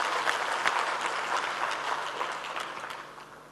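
An audience applauds at a conference as a speaker is welcomed onto the stage, steady clapping from a crowd that slowly tapers toward the end.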